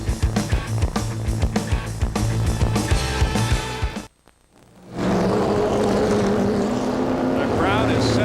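Late model race cars fire up and circulate Hickory Motor Speedway, loud pulsing engine roar that drops out abruptly for a moment, then returns as a sustained rumble with a rising whine at the end.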